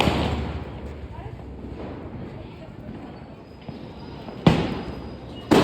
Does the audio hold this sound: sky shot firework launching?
yes